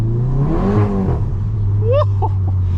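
A VW Golf GTI Mk7.5 engine revs loudly from inside the car while driving, its pitch sweeping up and down through gear changes before settling into a steady drone, with someone talking over it.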